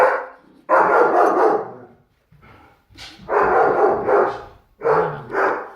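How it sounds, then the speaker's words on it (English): A dog barks several times nearby in quick clusters, loud sharp woofs separated by brief pauses, with no one talking. "there my dog is barking at something"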